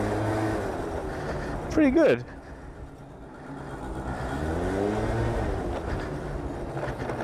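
A Yamaha BWS 50 50cc scooter engine revs up and settles with a rattly drone, its pitch rising and falling, while a person talks briefly over it.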